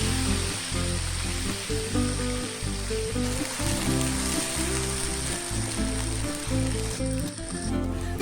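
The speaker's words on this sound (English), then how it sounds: "put the paste into the hot oil and saute it" Curry paste for a Nyonya fish pineapple curry sautéing in hot oil, a steady close sizzle running throughout with irregular clattering and scraping over it.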